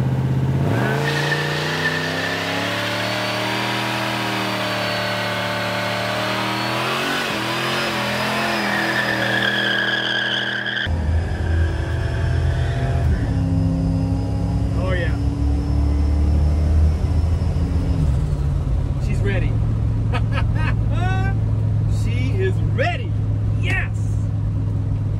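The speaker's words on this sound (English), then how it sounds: "what better way to test a locker than by seeing if both tires spin" A turbo V8 police car with a custom transmission and rear axle revs hard, engine pitch climbing in rising harmonics as both rear tires spin, then cuts to a lower rumble with squeals, bangs and people talking nearby.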